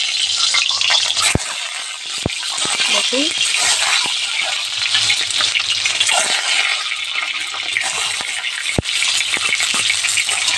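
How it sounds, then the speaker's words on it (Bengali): An egg frying in hot oil in a wok, with a steady sizzle throughout, sharp clicks of a utensil against the pan, and brief speech over it. "কড়াইতে আগে তেল দিলাম, এবার ডিমটা আমি ভেজে নেব।"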